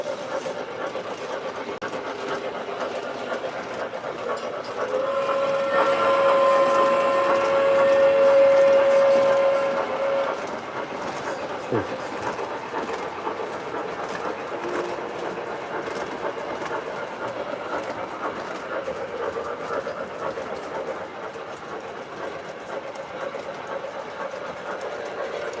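An O scale model train rolls along with a steady clickety-clack, and a sustained whistle sounds for several seconds near the start, followed by a short blast, with faint voices in the room.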